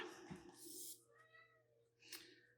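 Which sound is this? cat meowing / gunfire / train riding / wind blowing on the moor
cat meowing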